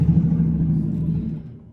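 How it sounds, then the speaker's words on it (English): A loud truck passes outside, making a deep, heavy rumble that holds steady and then fades as it moves away, with no voices over it. "Sorry guys, loud truck."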